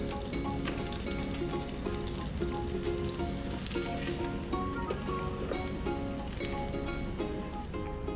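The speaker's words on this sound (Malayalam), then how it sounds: "ഇനി നമുക്ക് ഈ ബർഗർ പാറ്റീസ് ഇതിലോട്ട് ഇട്ട് കൊടുക്കാം." Chicken burger patties sizzle and fry steadily in a pan for a home-made burger, a continuous close, even crackle with no voices over it.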